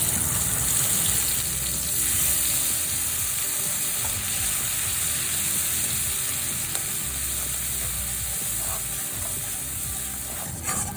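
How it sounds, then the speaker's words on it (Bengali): A paste of ginger, cumin and dried red chili, soaked in water, frying in a pan over low to medium heat, giving a steady, dense sizzle that carries on evenly throughout without any talk. "লো টু মিডিয়াম আছে মশলাটা একটু ভেজে নিলাম"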